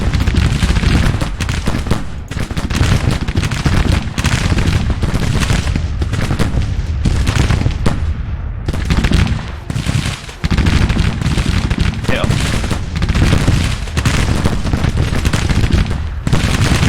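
Dense, continuous musket and artillery fire from Civil War troops in the strategy game Grand Tactician, loud and relentless, with overlapping volleys and booms that barely let up.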